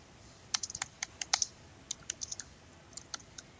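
Quiet bursts of clicky keystrokes on a computer keyboard while filling in a web form, short irregular clusters of taps separated by brief pauses.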